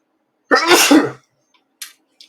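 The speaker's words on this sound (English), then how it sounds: "Got a cat, makes me sneeze." A single loud, close sneeze bursts out, followed by two faint short sniffs. The sneeze is blamed on a cat allergy.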